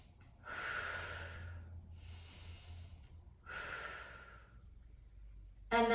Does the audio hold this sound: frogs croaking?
no